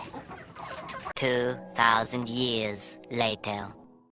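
Sonali golden chickens at feeding and watering time cluck and squawk in loud, repeated harmonic calls close by, several overlapping bursts after a quiet start.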